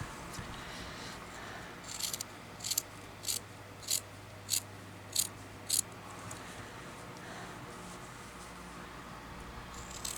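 Scissors cutting fabric pieces for a crazy patchwork blanket, a series of about eight crisp snips spaced roughly a half second apart over a faint steady background hum, with no talking.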